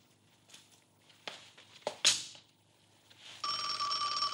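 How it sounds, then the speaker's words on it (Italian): An old-fashioned telephone bell rings in a Laurel and Hardy film scene. A loud, sustained metallic ring starts near the end, after scattered thumps, a sharp crack and faint background sounds. "Oh, e ancora il telefono."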